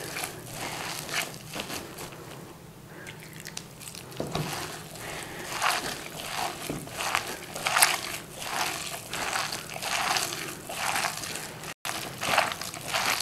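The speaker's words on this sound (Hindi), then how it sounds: "ज़रा ज़ोर ज़ोर से हाथ से दबा के ना इस तरह हल्के हल्के पानी से मिक्स करें" Spinach is squeezed and mixed by hand with a little water into pakoda batter, making close, wet squelching and crackling squishes in an uneven rhythm.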